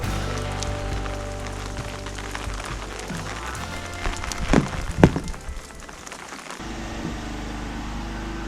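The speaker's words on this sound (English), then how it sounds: "So we just had a bit of a downpour, fairly heavy even for here." A heavy garden downpour hisses steadily and broadly, with a few louder splashes and thumps around the middle before the rain settles back to an even patter.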